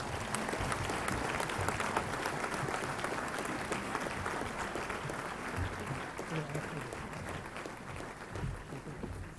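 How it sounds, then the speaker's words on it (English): Audience applause at a university graduation convocation, a dense, steady wash of clapping from a large hall crowd, fairly faint and continuous throughout. "Round of applause."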